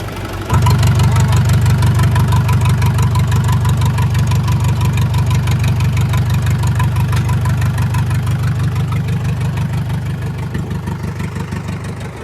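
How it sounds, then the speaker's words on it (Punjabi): A 2007 575 DI tractor engine idles close by, a loud, steady low rumble with an even, rapid knock running unbroken for about twelve seconds, no voices over it. "ਪੂਰੀ ਇੰਜਣ ਤੋਂ ਬਿਨਾ ਹੋਰ ਕੋਈ ਆਵਾਜ਼ ਨਹੀਂ ਹੈਗੀ ਟਰੈਕਟਰ ਦੀ"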